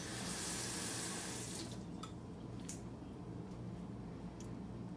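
Water is poured into flour to make a runny batter for crispy spicy fried chicken, a steady close splashing stream for about a second and a half that then tapers into a quieter, fainter trickle.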